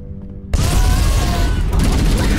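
A missile explodes in Halo: Combat Evolved with a sudden loud burst and a rumbling, crackling roar that sustains for about two seconds, close and dominating the mix.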